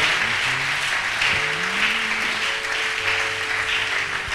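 A church congregation applauding and cheering the Lord, a steady wash of clapping with voices and a sustained sung or shouted tone running beneath it.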